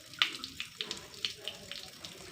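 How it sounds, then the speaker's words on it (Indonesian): Water wrung from a wet cotton cloth trickles and drips into a container, with several short splashing bursts during a classroom demonstration, close and fairly quiet. "Kain katunnya lagi. Siram dulu. Dah, silahkan diperas airnya."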